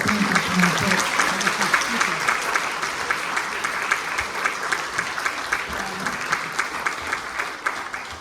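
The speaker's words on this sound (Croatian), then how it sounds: "Dakle, jedan aplauz za Jure." Audience applause at an international folklore festival in Velika Gorica, Croatia, a steady, dense clapping from a crowd that holds evenly for the whole stretch, with a voice speaking over it.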